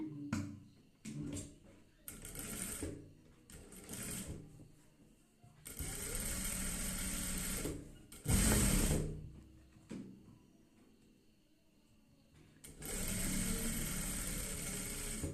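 Sewing machine running a long straight seam through fabric at a half-inch allowance, loud whirring bursts of stitching separated by pauses, with faint background talk between runs.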